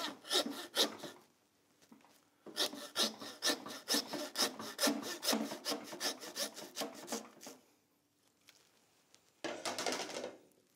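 A hand saw cuts through pork ribs on a whole pig middle section, working in rapid, rhythmic back-and-forth rasping strokes, close and steady, with a brief pause partway through and a final short burst of sawing.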